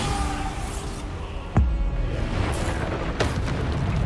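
Bombarda explosion spells burst in Hogwarts Legacy, with two sharp booms a couple of seconds apart over a dense, rumbling game soundscape.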